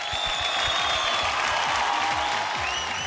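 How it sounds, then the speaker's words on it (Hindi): Studio audience and judges on a televised singing competition applaud a singer's voice, steady dense clapping filling the whole stretch at moderate loudness. "पहले तो हम तोहर आवाज खातिर हम खुद ताली बजावत हैं।"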